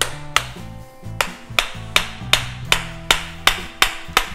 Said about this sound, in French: il convient de taper à l'arrière du manche, ce qui va automatiquement rentrer la lame